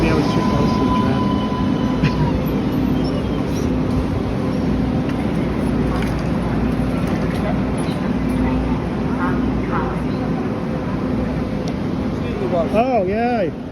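Train number 3643 rumbles past nearby, a steady broad roar and rattle with a horn-like tone near the end, someone talking over it.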